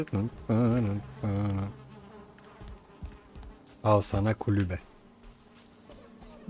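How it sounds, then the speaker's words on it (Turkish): Bees buzz in the video game Valheim near a house on open ground, a faint steady drone running underneath while someone talks in short bursts over it. "Arı sesi duyuyorum."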